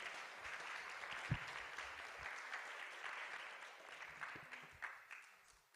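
Audience clapping fills the hall at a university department's academic festival, a steady wash of many hands held at an even level from start to finish, with no talk over it.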